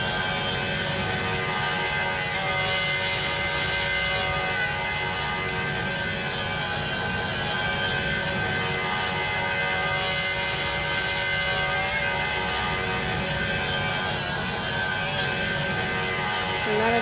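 Steady, loud airplane engine drone from the Pilot Flight Simulator video game, a continuous hum with a bright tonal whine running unbroken throughout, with no talk over it.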